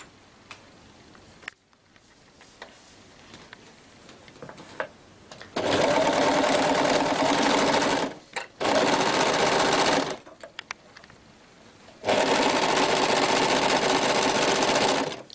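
An overlocker sews a shoulder seam on thin fabric with close, tight stitches. It runs in two loud, steady whirring bursts separated by a brief pause, with quiet handling and faint ticking in the quieter stretches around them.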